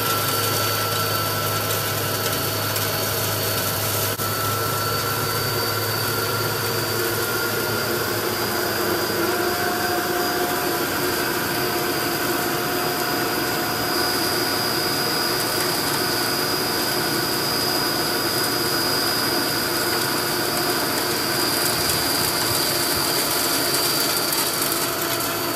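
A water pump runs continuously, a loud, steady mechanical drone with a faint whine, as workers pump out water pooled from a broken water line during a residential water line replacement.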